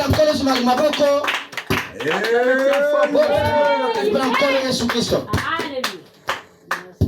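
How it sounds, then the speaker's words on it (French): A church congregation claps along in worship, the sharp hand claps running beneath loud singing and voices that fill the whole stretch. "Est-ce que quelqu'un peut acclamer pour le Seigneur?"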